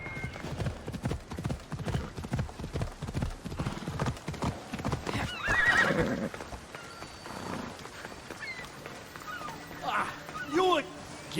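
Horses in an ancient Greek setting of the Assassin's Creed Odyssey game clip-clop with rapid hoofbeats, then one neighs and snorts, while voices talk over the scene.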